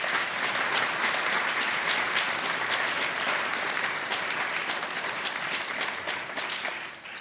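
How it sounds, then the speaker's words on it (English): An audience in a church concert space applauds volunteers with steady, dense clapping that holds evenly for several seconds before tapering slightly at the end, with no talking over it. "Please give them a round of applause."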